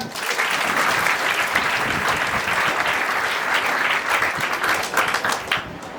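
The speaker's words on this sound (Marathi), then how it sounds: "एकदा जोरदार टाळ्या" A crowd at a children's camp gives loud, sustained applause, with dense clapping holding steady for several seconds and no speech over it.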